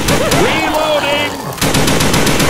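Rapid Left 4 Dead 2 gunfire rattles loudly through the whole stretch, close and steady bursts mixed with game sounds and a brief pause before the firing resumes.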